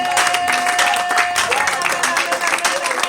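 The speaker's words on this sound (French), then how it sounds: "Nous sommes en train de louer Dieu en l'acclamant." A church congregation applauds and acclaims during an Easter service, dense continuous clapping and cheering filling the room at steady loudness, with voices mixed into the crowd noise.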